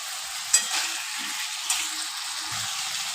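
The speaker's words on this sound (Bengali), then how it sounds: "মশলাটাকে আলুর সঙ্গে কষিয়ে নেব।" Masala with potatoes frying in a pan for Bengali aloo dum, giving a steady close sizzle with a few soft stirring scrapes and knocks; no talk.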